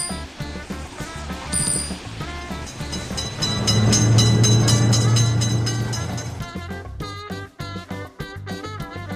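A train runs past a road level crossing, its rumble and wheel clatter swelling to a loud, close peak mid-pass with a sustained low hum, then breaking into rhythmic clicks as the wagons go by.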